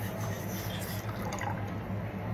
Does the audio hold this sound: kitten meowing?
no